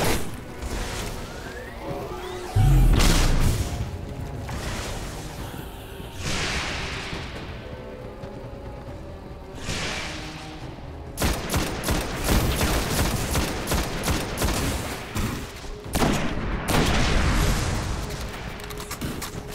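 Gunfire in the Destiny video game: rapid bursts of automatic shots and scattered single blasts with booming impacts, loud and dense across the whole stretch, with no voices over it.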